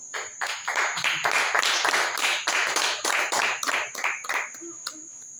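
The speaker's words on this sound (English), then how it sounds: "Give him a clap." An audience at a church service claps together for several seconds, steady dense applause that swells and then thins out toward the end.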